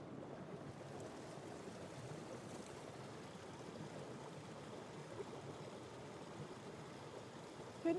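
A winter creek in the woods flows with a steady, even rush of water, constant and moderately close, with no voices.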